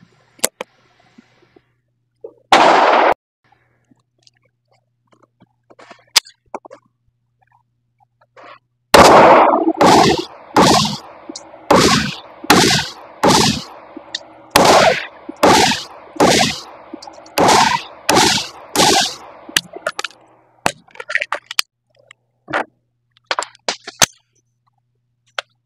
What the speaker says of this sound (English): then shoot the rest of the rounds that I wanted to put through this one